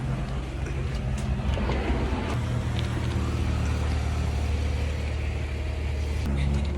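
A car pulling away and driving off outdoors during a staged stolen-car prank, a steady low engine rumble with road noise that persists throughout, loud and continuous.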